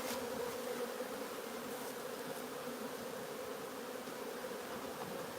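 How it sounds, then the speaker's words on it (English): A dense swarm of honeybees flies around a hive during a nuc transfer, making a continuous, fairly loud, even buzz with no talking. "all the flying bees will virtually come back to that place straight away"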